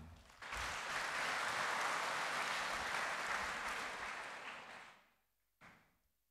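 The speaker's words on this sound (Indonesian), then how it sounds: "tepuk tangan untuk Tuhan" A church congregation bursts into applause during a Catholic Sunday homily, steady for about four seconds before fading out, followed by one short thump.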